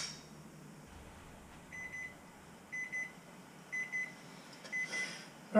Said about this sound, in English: once your timer goes off